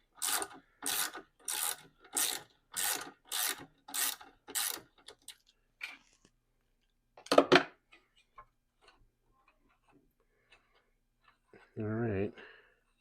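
Ratchet wrench on engine bolts during a teardown, about seven evenly spaced raspy clicking bursts up close, then sparse scattered clinks and a brief loud knock, with a short voice at the end.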